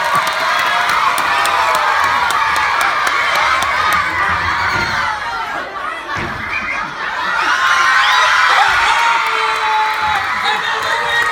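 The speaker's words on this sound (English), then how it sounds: "let's cheer on Mr. Granlin." School assembly crowd of children cheering and shouting loudly and continuously during a Plinko game, with scattered laughter and brief dips in the din.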